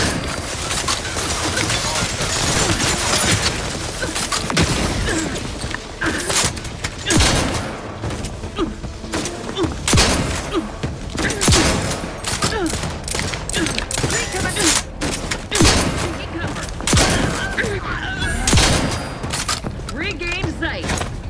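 Dense, rapid gunfire fills a firefight in The Outer Worlds 2, with booms, thuds and mechanical clatter overlapping into a loud, continuous barrage.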